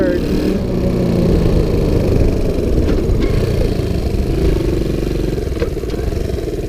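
A Sunl 110cc ATV engine runs loud and close as it shifts up through first, second and third gear during a ride. The engine drone is steady, with slight changes in pitch.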